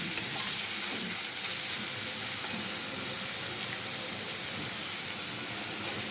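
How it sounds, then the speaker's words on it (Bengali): Carrots and capsicum stirred and fried in a pan, with a steady close sizzle and soft scraping stir sounds running throughout, no talking. "গাজরটা দিয়ে একটু নেড়ে নেব।"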